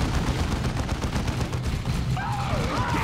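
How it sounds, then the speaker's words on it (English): Sustained burst of Space Marine tactical squad gunfire in Dawn of War 2, dense and continuous against orcs near a village, with battle noise and a brief whistling tone late on. "Tactical squad, return fire!"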